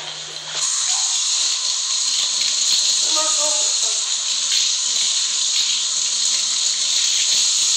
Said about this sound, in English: let's wash our hands and wipe our face off